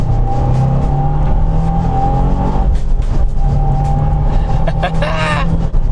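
A GR Corolla or WRX revs up sharply as the driver blips the throttle to match revs on a downshift. The engine note climbs loud and close over steady road noise, and a voice briefly talks over it.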